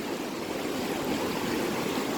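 Clear, cold water of a canyon stream at Kings Canyon rushes steadily nearby, a dense, even wash of flowing water with no pauses or voices.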